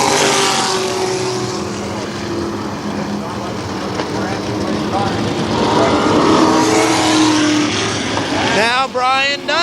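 Race cars roar around a short oval at Kil Kare Speedway in 1994, a loud sustained engine drone that swells as cars pass, with an announcer talking over it.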